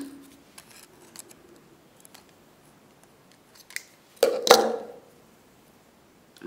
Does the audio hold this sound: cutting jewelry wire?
yes